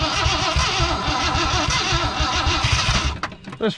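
A 1968 Ford F100 Ranger, abandoned for 25 years, cranking and catching on its engine, a loud close rough chugging run that cuts off near the end, followed by a few clunks.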